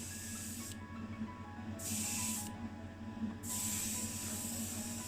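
Spray gun laying blue-tinted white enamel onto a car panel during a Ford Anglia restoration, in three long steady hissing bursts with short pauses between, close and even.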